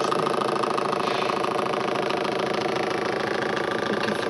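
A Newman motor powered by a single 18 volt battery runs at a steady speed, giving a continuous even mechanical whir with a fine rapid buzzing texture, close and alone without talk.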